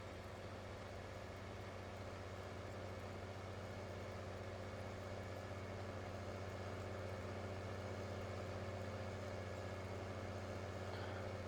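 A John Deere 4440 tractor engine in Farming Simulator 2019 drones steadily with a low, even hum, constant and moderately faint throughout.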